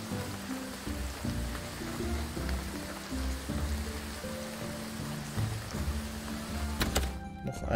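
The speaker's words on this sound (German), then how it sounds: "Regen." Steady rain in the farming and graveyard-management video game Graveyard Keeper, a continuous soft patter filling the scene with low music underneath, ending in a brief burst of louder noise.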